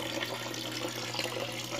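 A hand plunging into and stirring the cold water of a cichlid aquarium, giving a continuous close sloshing and splashing wash for a couple of seconds.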